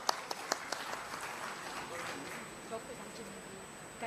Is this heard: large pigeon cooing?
no